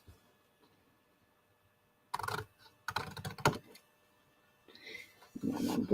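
Paper being trimmed for a handmade card gift box, crisp close cutting and snipping bursts with short pauses between them in an otherwise quiet room.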